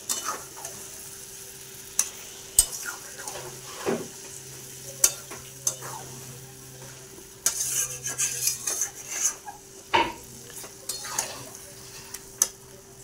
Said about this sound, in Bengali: এবারে এটাকে সুন্দর করে কষাতে থাকবো।